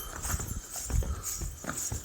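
Horse hooves clip-clop at a steady walking pace on a cold mountain trail leading to the Vaishno Devi shrine in Jammu, with soft, fairly close thuds repeating evenly.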